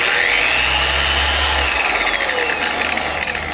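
A polisher is spun up to its highest speed to wring moisture out of its pad during car paint polishing, producing a loud, steady, high-pitched whirring whine with a low rumble that drops away partway through.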